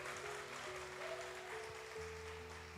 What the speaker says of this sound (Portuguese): A gente pode dar um aplauso ao Senhor pela vida da Tairine?